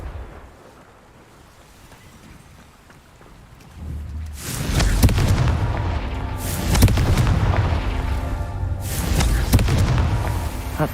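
A Confringo explosive spell blast in the Hogwarts Legacy video game, a loud booming burst after a quiet start, followed by further rumbling impacts and crackling blasts.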